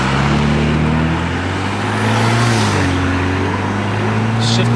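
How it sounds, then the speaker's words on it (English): BMW E92 335i with its twin-turbo engine cruising along a road, a steady, loud engine drone whose pitch climbs and falls through gear changes, with some road and wind noise throughout. "Twin turbo BMWs be sounding funny, yo."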